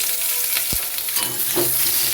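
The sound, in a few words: frying pointed gourd (potol) with potatoes in oil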